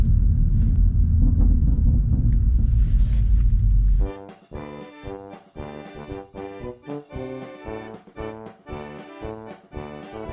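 A BMW M140i with a Stage 1 BM3 tune gives a steady, low engine and road rumble with wind noise for about four seconds, then loud rhythmic music takes over.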